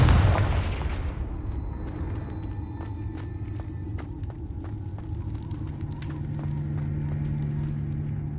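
A Confringo fire spell explodes in Hogwarts Legacy: a loud, roaring blast at the start that dies away within a second, followed by a steady rhythm of hoofbeat-like clopping over continuous low rumble.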